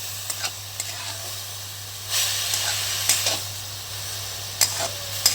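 Vegetable curry, a rustic greens bhaji, hisses softly in a pan while a spoon stirs it, with faint sizzling and a few sharper scraping strokes spaced through the clip, no speech.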